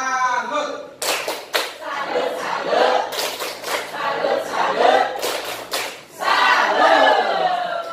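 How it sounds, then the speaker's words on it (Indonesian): A workshop group performs a salute clap, with several short bursts of fast, unison clapping separated by loud group voices chanting and calling out in between. "Tepuk salut."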